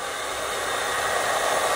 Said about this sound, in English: you screw it onto the end of your hair dryer